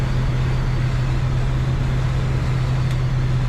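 Steady low road and engine drone with a soft airy hiss of wind through the quarter windows, heard from inside the cab of a 1967 Chevrolet C10 short-box pickup cruising on a cold day in Minnesota, constant and even with no talk.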